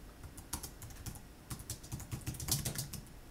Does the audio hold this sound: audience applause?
no